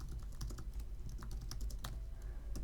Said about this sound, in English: From here, I can type out date of birth